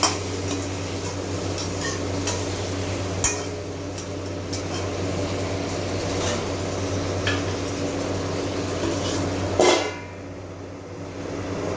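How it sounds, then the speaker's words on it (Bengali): Potatoes being stirred while frying in a pan over medium-low heat, with steady sizzling and repeated scraping clinks of a spoon against the metal pan, then a louder clatter near the end. "মিডিয়াম টু লোতে দিয়ে আমি এটা আলুটাকে কষাচ্ছি।"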